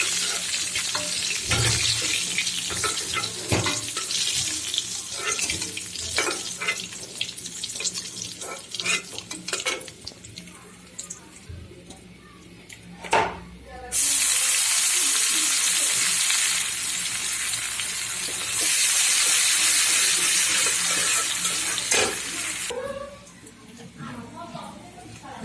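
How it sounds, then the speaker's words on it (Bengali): Koi fish frying in a pan with tomato cooking, with loud hissing sizzle of hot oil that swells in long bursts, along with clinks of utensils and a person talking now and then. "তো মাছটা ভাজা হোক, উল্টা পাল্টা ভেজে নিচ্ছি"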